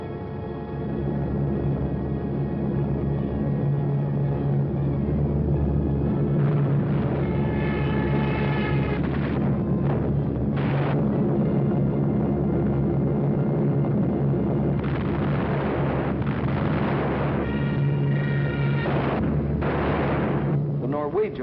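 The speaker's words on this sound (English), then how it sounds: "So the Germans brought up their bombers." German bombers drone overhead during a wartime air attack in Norway, a heavy, muffled engine roar in old 1940s film sound, swelling and fading with rumbling bursts underneath.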